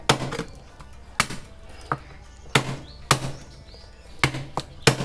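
A sharp Japanese knife chops through a free-range chicken on a cutting board while the meat is split up for a Thai Isan chicken curry, giving a string of sharp, close thunks at uneven intervals with quiet handling noise between them.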